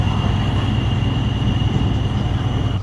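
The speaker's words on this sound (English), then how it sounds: "You get the engine quite loud in this because it's multiple diesel unit and windows are open" A diesel multiple unit train running between Swansea and Pembroke Dock, heard from inside with the windows open: a loud, steady engine drone and rumble with a constant whine throughout.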